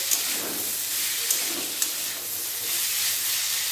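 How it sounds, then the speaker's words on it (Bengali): Drumsticks and potatoes frying in spice paste for a light vegetable curry, heard as a steady loud hiss and sizzle with a few faint taps, close by and without talk. "ওই মশলার মধ্যে সজনে ডাঁটা আর আলুটা দিয়ে কষিয়ে নেব"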